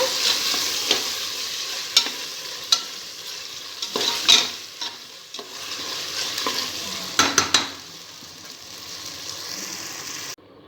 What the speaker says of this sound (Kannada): ನಾಟಿ ಟೊಮೊಟೊ ಹಾಕ್ತಾಯಿದ್ದೀನಿ ಈಗ. ಅದು ಕೂಡ ಚೆನ್ನಾಗಿ ನಾವು ಸ್ವಲ್ಪ ಸಾಫ್ಟ್ ಆಗೋವರೆಗೂ ಬೇಯಿಸ್ಕೊಳ್ಳೋಣ